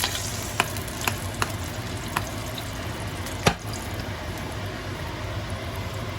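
Tarragon brown butter sauce frying in a pan, a steady dense sizzle with a few sharp utensil clicks against the pan, close and moderately loud.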